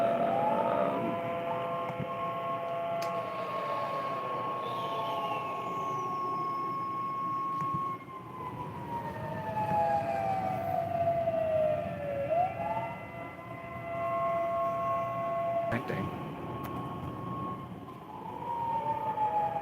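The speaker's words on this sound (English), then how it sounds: "I'm gonna see if I can find this siren's location." A wailing emergency siren rises and falls in long sweeping tones, steady and fairly loud throughout, with a second overlapping tone gliding at times; no voices are present.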